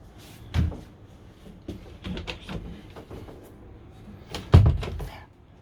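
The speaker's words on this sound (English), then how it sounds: "There you go, there's a door going back." Cupboard doors in a 2023 Florium Magister 74 LMF motorhome interior are moved and shut, giving several sharp knocks and clicks spread out with a louder thud near the end, close and in a quiet room.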